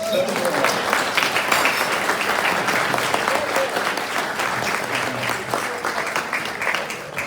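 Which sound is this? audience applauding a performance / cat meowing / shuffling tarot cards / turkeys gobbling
audience applauding a performance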